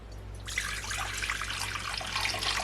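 Water, about 400 grams, is poured into a bowl to make dough for a homemade village-style cheese pie pastry. After a short quiet start, a steady, close splashing stream runs on without a break, and no one speaks.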